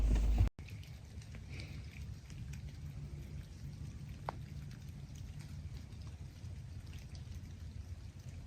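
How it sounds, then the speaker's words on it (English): Light rain drizzles outdoors around a hunter's deer stand, a steady soft hiss of fine drops with no voices. "it's drizzling out here"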